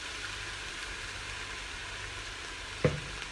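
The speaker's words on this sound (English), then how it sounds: "So once all the liquid has dried, going to add oil" Oil goes into a hot pan for a lasagna filling, giving a faint, steady sizzle and fry hiss throughout, with one brief louder clatter near the end.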